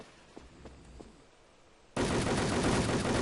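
A Robinson gun in the online shooter Wolfteam opens up after a near-silent stretch with a few faint taps, then fires as one sudden, loud, dense burst that holds steady to the end.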